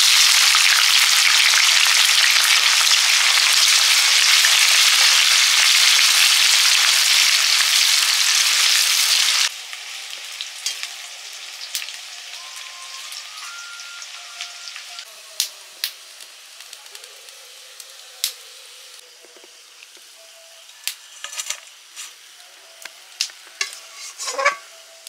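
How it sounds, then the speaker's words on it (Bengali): Sliced onions fry into crispy beresta for kacchi biryani. A loud, dense sizzle fills the first part, then drops to a quieter crackle with scattered sharp pops and clinks. "বেরেস্তা ভেজে নেব।"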